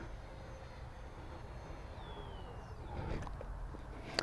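A Freewing F-14 Tomcat radio-controlled jet flies overhead, its ducted-fan whine faint and distant at first, then swelling louder with a pitch sweep as it passes.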